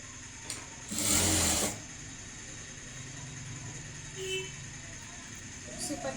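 A sewing machine stitching a blouse runs in a short, loud, whirring burst of about half a second before stopping; a voice talks quietly around it.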